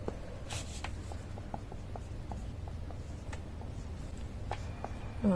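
Marker or chalk strokes on a board in a quiet room, a steady series of short scratchy taps and squeaks spaced through the stretch, faint and close.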